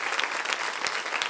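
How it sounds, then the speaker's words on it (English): A roomful of students claps together in a dense, steady burst of applause at a career guidance session, brief and fairly close. "Clap again. Clap again."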